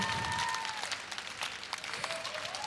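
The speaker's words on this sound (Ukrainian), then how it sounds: "І за це ти отримуєш ці теплі овації" Warm applause from a television studio audience after a ballroom dance performance, dense clapping throughout, with a faint tonal sweep running beneath it.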